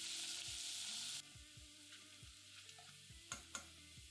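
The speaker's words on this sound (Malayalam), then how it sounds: "1 ടേബിൾ സ്പൂൺ വെളിച്ചെണ്ണ ഒഴിച്ച് ചൂടാകുമ്പോൾ ഒരു ചെറിയ കഷ്ണം ഇഞ്ചി ചതച്ചതും 4 വെളുത്തുള്ളിയല്ലി ചതച്ചതും ഇട്ട് ഏതാനും സെക്കൻഡ് മൂപ്പിക്കുക" Crushed ginger and garlic fry in hot coconut oil, a bright continuous sizzle that drops in intensity after a second, followed by soft stirring scrapes and small pops, close and without talk.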